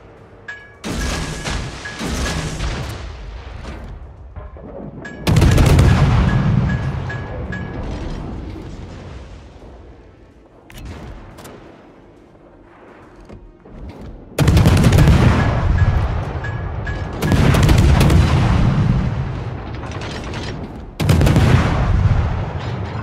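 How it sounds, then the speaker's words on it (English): Heavy naval gunfire from a Jinan cruiser in World of Warships: loud, booming salvos that roll out and decay, repeating every few seconds with rumbling quieter stretches between them. "Stations requesting fire on the designated target."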